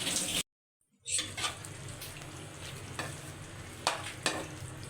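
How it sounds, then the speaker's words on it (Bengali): Vegetarian mixed vegetables with slit green chillies, coriander leaves, garam masala and sugar sizzle in a frying pan as they are stirred, a steady close hiss with soft scraping strokes, briefly cut to silence near the start. "ভালো করে মিশিয়ে নিলাম।"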